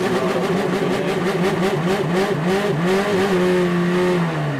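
A British F4 single-seater race car launching off the line at a race start at Oulton Park, its engine note climbing in loud rising sweeps through the gears, close and continuous without voices.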